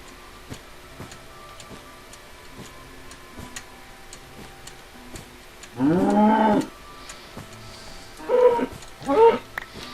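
A cow moos in Minecraft, three short lowing calls in a row, with a steady ticking running quietly underneath.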